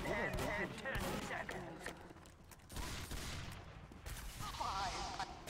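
Gunfire in a video game, rapid bursts of shots over game effects and a person talking, loud and dense throughout.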